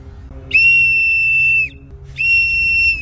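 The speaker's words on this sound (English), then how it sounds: "Looks like rape whistles." A small safety whistle found in a decommissioned police car gives two loud, shrill blasts, each about a second long, separated by a short pause.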